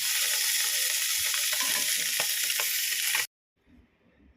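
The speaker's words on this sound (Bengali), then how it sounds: "মায়া মাছগুলো আজকে করে নিচ্ছি ভাজা" Small fish frying hard in a wok, a dense, loud, steady sizzle with occasional crackles for about three seconds, then cutting off abruptly into near silence with a faint rustle at the end.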